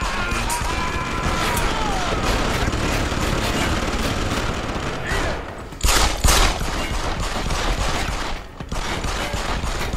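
Gunfire in the video game Deus Ex: dense, continuous shooting and crashing noise throughout, with a louder burst of shots near the middle.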